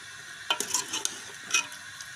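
Mungre roast in ghee with a soft background sizzle, broken by a few sharp scraping stirs and clinks of a utensil against the pan, close and without voices.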